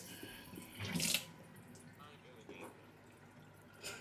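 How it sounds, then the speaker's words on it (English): Running tap water splashes into a kitchen sink during washing up after baking chocolate cookies, with a brief louder gush early on, then a steady faint flow beneath soft background sounds. "Okay, we'll just wash up."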